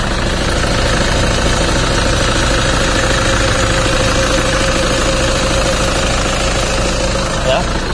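A 2008 Toyota Kijang Innova V diesel with an automatic gearbox idles with its hood open, producing a loud, steady, close diesel clatter with constant low rumble and no talking.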